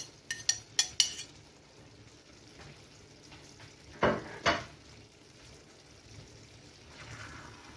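Paella with chorizo and shrimp stirred in a pan: a quick run of sharp utensil clacks, a quiet stretch, then two more scraping knocks over a soft background.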